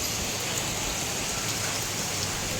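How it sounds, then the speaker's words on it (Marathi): Steady rain falling outdoors in Vasai-Virar during a stormy, windy spell, a dense continuous hiss of drops on surfaces at close range, even in level throughout with no voices. "पण हे बघा पुन्हा पाऊस चालू झाला आहे."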